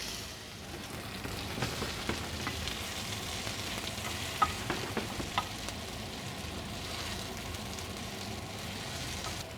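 Apple pieces fry in butter in a pan with a continuous close sizzle, while a utensil stirs and taps against the pan now and then.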